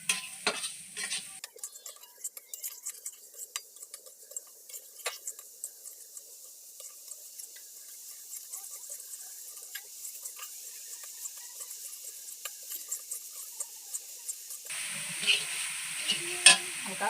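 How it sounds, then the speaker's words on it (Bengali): Semolina and sugar fry lightly in a pan, giving a soft, steady sizzle with scattered scrapes and taps of stirring throughout, a little louder near the end. "এইগুলোকে আমি ভেজে নেব হালকা করে।"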